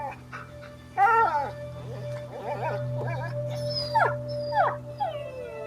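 A dog in the video game A Plague Tale howls and yelps in several rising, wavering cries, close and fairly loud over a constant low background hum.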